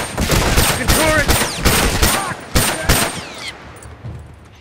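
A turret firing in The Last of Us, loud rapid bursts of automatic fire with ricochet whines and sharp cracks that come in quick volleys, then break off and fade into quiet.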